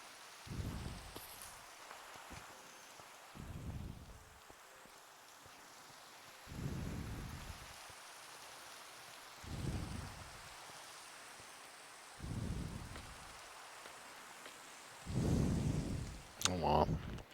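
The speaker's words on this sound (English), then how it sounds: "Maybe the rain chased them off?" Rain falls in the video game Minecraft as a soft, steady hiss, with low rumbling swells recurring every few seconds, one louder near the end.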